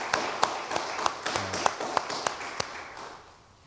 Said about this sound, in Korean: 박수 한번 해주세요. 박수.